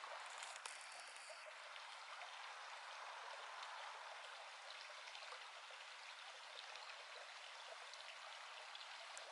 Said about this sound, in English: that sound of that running water